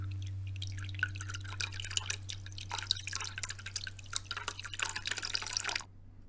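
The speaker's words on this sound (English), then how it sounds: "this water has kind of both highs and lows in it." Water dripping and splashing into a bowl, a busy stream of small drops with mixed high and low tones over a steady low hum, fairly close, ending abruptly.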